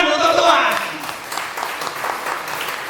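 A church congregation at a Sunday worship service breaks into applause after a song of praise, a steady wash of clapping that starts fuller and settles into a softer patter.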